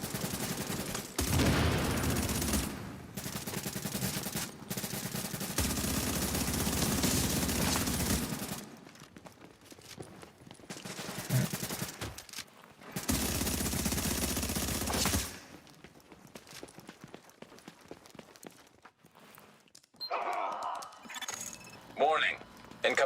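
Sustained automatic gunfire from the video game The Division comes in long, dense bursts of rapid shots with brief gaps between them, loud and close, followed by quieter scattered noise and a voice speaking.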